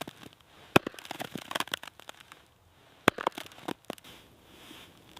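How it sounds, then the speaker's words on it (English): Firewood is cut into pieces at a snowy mountain campsite in Norway in winter: a few sharp, loud cracks and snaps stand out over quieter scattered crackling and knocks. "Time to cut some firewood into manageable pieces for cooking."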